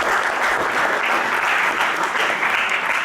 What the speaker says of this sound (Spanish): Vamos a recibir a Natalie con un fuerte aplauso